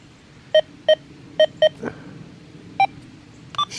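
XP Deus 2 metal detector sounding over a copper penny: six short, clear electronic beeps in an uneven pattern, mostly the same pitch, with the last one higher, over faint background hiss and a soft thud.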